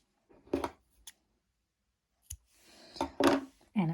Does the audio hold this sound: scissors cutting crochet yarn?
yes